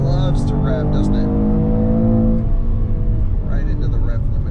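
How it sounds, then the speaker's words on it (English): Strong engine revving from a 2021 Mercedes E53 AMG Cabriolet as it climbs toward the rev limiter and then eases off, loud and steady for several seconds on a drive through the Los Angeles hills, with a voice talking over part of it. "This engine just loves to rev, doesn't it?"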